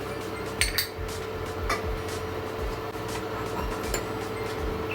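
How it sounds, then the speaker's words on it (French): Pumpkin soup vegetables covered with water in a pot are stirred with a utensil, giving a few sharp clinks against the pot early on over a steady background, with no talk. "Je mélange bien."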